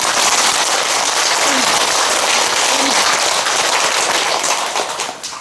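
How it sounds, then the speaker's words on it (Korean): An audience at a Buddhist temple sermon applauds, dense loud clapping from many hands that holds steady and then fades away at the end. "박수 한번 해주세요"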